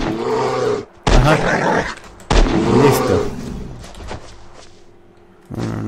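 Gunfire at a bear in the survival video game Westland Survival, several loud sharp shots spaced apart with a brief word spoken between them.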